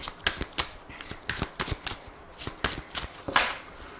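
Lenormand cards are shuffled by hand in a steady series of crisp riffles and soft slaps, about a dozen quick bursts, close and moderately loud with no talking.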